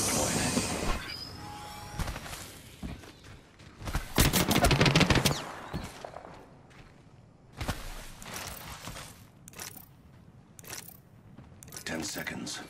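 Video game gunfire crackles in scattered bursts, from rapid automatic rattles to isolated sharp shots, some near and loud, others more distant, amid battle noise and faint game voice lines.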